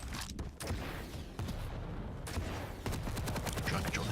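Machine gun fire crackles in a Quake Champions esports match, a dense rapid stream of shots with brief gaps, continuous game action at moderate level.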